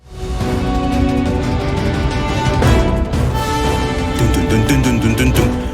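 Dense, driving orchestral battle music from Final Fantasy VII Rebirth, with heavy low rhythm, an underlying riff, and bright, punchy accents, plays continuously and loudly, with no voices.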